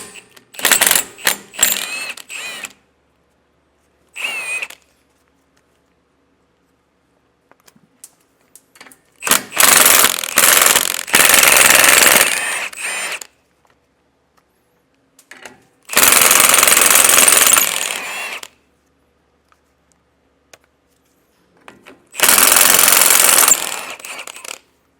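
Nuts being removed from the tie rod bracket U-bolts during installation of a Roadmaster Exact Center steering stabilizer on a 2024 Jayco, heard as separate bursts of loud ratcheting wrench clicks with metallic clanks and quiet pauses between them.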